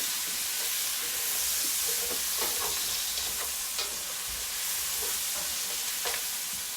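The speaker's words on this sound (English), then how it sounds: "you're going to leave that on high, and we're going to take and I'm going to put 2 small onions in there" Two small onions fry in hot oil over high heat, giving a steady close sizzle with faint stirring clicks and scrapes running throughout.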